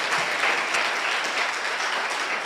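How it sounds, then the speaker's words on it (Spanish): Church congregation applauding steadily, a dense, even wash of many hands clapping with no pauses and almost no voices over it. "le aplauda al Señor"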